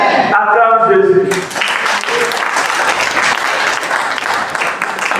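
A church congregation bursts into dense, sustained applause that carries on loud and steady, with a voice heard speaking over it at the start.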